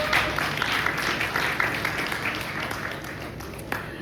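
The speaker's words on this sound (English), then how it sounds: "let's just clap a little bit to support" An audience at an art talk claps for a visiting artist, a modest, steady patter of hands that holds for several seconds and slowly thins, heard a little distant in the room.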